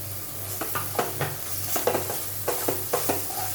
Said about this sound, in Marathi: गॅस जो आहे तो आपण स्लोवरच ठेवायचा आहे आणि छानपैकी हा मसाला असा परतून घ्यायचा आहे आपल्याला